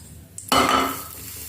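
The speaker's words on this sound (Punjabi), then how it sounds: "ਇਹ ਹੁਣ ਤੜਕਾ ਲਾਉਣੇ ਆ" Ghee being used for a tadka: a utensil clinks, then a sudden loud sizzle bursts up close and slowly fades over about a second, with no talking.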